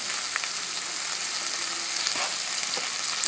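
Butter and olive oil cook gently in a pan for sausage penne pasta, a soft, even sizzle with faint scattered pops and crackles, close by and unbroken.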